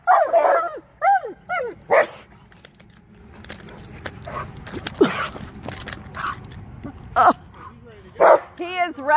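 An impatient Malamute eager to play whimpers, yips and barks in bursts close by, with jangling keys and a person talking in between.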